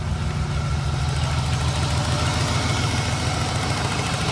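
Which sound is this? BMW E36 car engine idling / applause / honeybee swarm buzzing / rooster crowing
BMW E36 car engine idling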